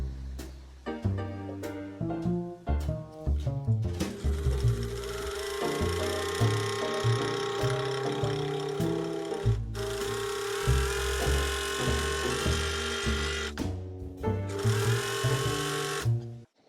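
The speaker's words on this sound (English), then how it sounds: "I've done my first pass of sewing, which you've seen now" A sewing machine stitches a warm blue-patterned dress, starting with short stop-start bursts, then running in long steady whirring stretches with brief pauses, close and clear.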